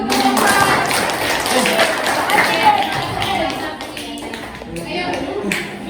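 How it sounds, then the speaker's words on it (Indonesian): Classroom applause for a student group during a teaching session, a steady patter of hand claps mixed with children's voices and chatter, fairly loud and continuous throughout. "tepuk tangan dulu untuk kelompok"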